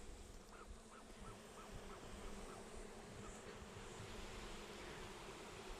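A dense, continuous hum of buzzing bees, steady and close, with no voices.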